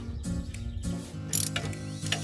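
Rapid clicking of a ratchet wrench in short bursts, close by, with metallic taps between strokes, tightening exhaust manifold bolts on a 1998 GMC Sierra with a 5.7L Vortec engine.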